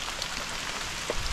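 Rain falls steadily on a mountain hiking trail on Mount Cikuray in Garut, making a close, even hiss with scattered louder drops and no voices during the short stretch.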